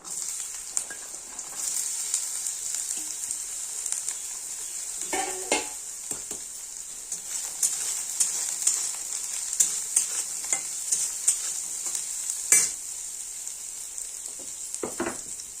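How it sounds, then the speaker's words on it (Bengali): Soybean chunks fry in hot oil for a potato and soybean curry, giving a steady close sizzle throughout with occasional stirring scrapes and light clinks of a utensil against the pan. "গরম হয়ে গেছে, এবার সয়াবিনগুলো ভেজে নেব"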